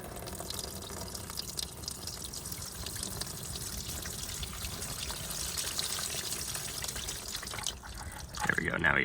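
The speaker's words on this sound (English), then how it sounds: "Oh, look at all that water." Water draining out of the oil pan of a 1984 International 484 tractor, a continuous pouring trickle into a catch container that runs steadily, then ends in a brief clatter.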